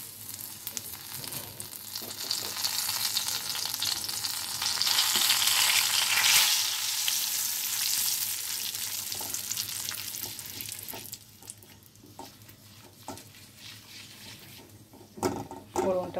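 Dry red chilli, bay leaf, radhuni and panch phoron spices frying in a little leftover oil after fried bori, a steady close sizzle with scraping stir strokes that quietens in the second half, with a few sharp clinks near the end.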